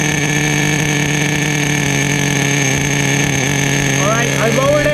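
A Duratrax Nitro Quake RC car with a TORQ 21 nitro engine idles loudly and steadily close by, its buzzing drone holding an even pitch, with a brief higher whine toward the end.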